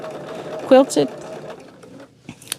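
A domestic sewing machine quilting stitch in the ditch runs in brief whirring bursts between pauses while someone talks over it.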